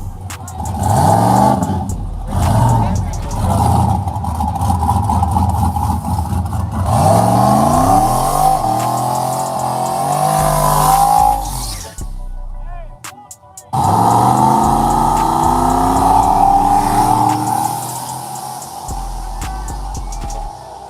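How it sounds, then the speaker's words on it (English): Camaro drag car with a small-block V8 on stock cam and nitrous, making a full pass at a drag strip: loud, sustained engine roar climbing through gears with shifts, a brief drop mid-run, then revving hard again. "That's a small block. Little small block. Stock cam."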